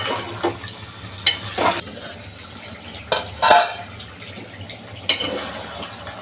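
Masala frying and being stirred in a pan while cooking spiny gourd with potato, with irregular scraping and clinking of a utensil against the pan and a low sizzle underneath, close and moderately loud, with no talk.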